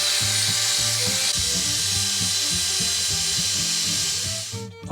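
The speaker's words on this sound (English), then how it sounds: "So I'm keeping the drill moving fairly quickly here and just going very lightly back and forth over the surface" A power drill polishes old car paint to remove surface rust, giving a loud, steady motor whine with a pulsing low hum that runs throughout and cuts off at the end.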